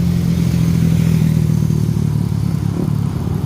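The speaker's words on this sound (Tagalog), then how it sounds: "Oh, yung motor oh." A motorcycle engine passes on a mountain road, a close, loud mid-pitched drone with a low steady hum that fades slightly toward the end, heard alone without talk.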